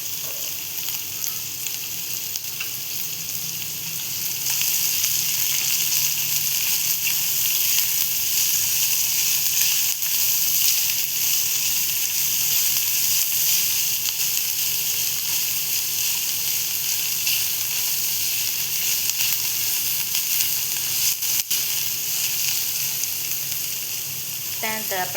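Onion frying in a pan gives a continuous bright sizzle that grows louder after a few seconds and holds steady throughout, close and dense, with faint clinks of the pan.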